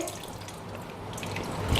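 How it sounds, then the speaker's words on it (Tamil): Tamarind water pours into a pot of bitter gourd sambar, a soft continuous trickling splash at low level, with no talking over it. "இப்போ கடைசியில் நம்ம இந்த புளித்தண்ணி ஊற்றுறோங்க"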